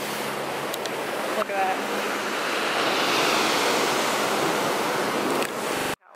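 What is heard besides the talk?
ocean waves crashing on a small beach in Monaco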